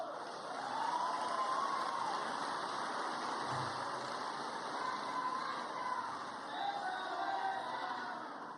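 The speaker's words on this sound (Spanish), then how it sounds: "Un aplauso para cada uno de ellos." Distant crowd applause and cheering at the presentation of a new Colombian government cabinet, a steady wash of clapping and voices heard from far back.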